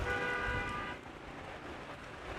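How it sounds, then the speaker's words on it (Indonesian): A car horn sounds on a street, one sustained honk lasting about a second, fairly loud and close, then cuts off, leaving a low rumble of traffic and background noise. "Tah eta klakson"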